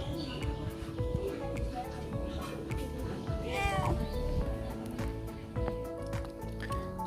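A house cat gives a single short meow partway through, mid-level in loudness, with people talking nearby over low background noise.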